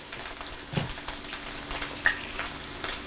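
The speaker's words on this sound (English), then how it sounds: "You can hear that sizzle." Steady crackling sizzle of food frying in a hot pan while cooking Christmas dinner, close up, with a few sharper pops and spits, no talking.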